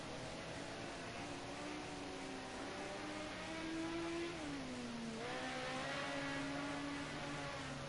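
Ford Sierra Cosworth race car engine circling the Oschersleben track in a touring-car race, a steady droning whine that rises and falls with gear changes, heard from a distance at low volume.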